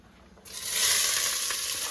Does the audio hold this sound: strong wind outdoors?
no